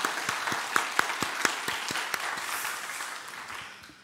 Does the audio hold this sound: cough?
no